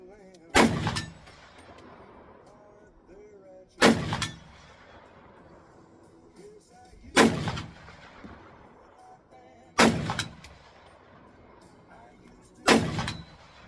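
Sig Sauer AR10 rifle in .308 fired at an outdoor shooting range: five loud, sharp shots spaced about three seconds apart, each with a brief ringing decay, and no talking between them.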